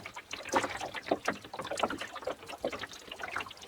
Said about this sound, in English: You can hear the water gently lapping against the hull as we drift along at about half a knot.